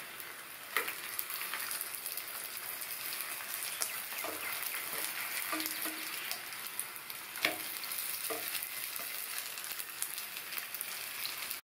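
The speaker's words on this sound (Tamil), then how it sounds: "ஸ்டவ்வை மீடியம் ஃப்ளேமில் வச்சுக்கோங்க. இந்த சேமியா ரவை வெந்து வர்றதுக்கு டைம் ஆகும்." Semiya rava roti cooks in a pan over a medium flame, a quiet, even sizzle with a few scattered clicks and taps and no talking.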